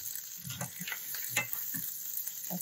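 Bison meatballs are dropped into simmering homemade marinara, giving a few soft plops and wet thuds over a faint bubbling sizzle, quiet and close, with no talking.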